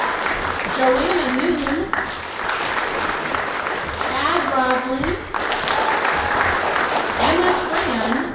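A school speech-night audience claps for the team in a sustained wash of applause, heard under a voice reading out names.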